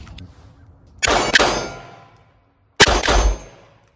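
A tactical carry pistol fires 147-grain rounds, two sharp, loud reports about two seconds apart, each followed by a brief ringing decay.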